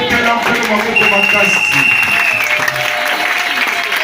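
A church congregation applauds in praise of God, dense continuous clapping from a large crowd with cheering voices mixed in, loud and sustained.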